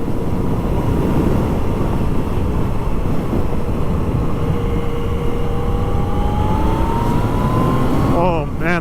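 A Yamaha FZ-09 motorcycle engine accelerating on a road ride at about 80 km/h, a steady loud roar with rising pitch and heavy wind rumble throughout.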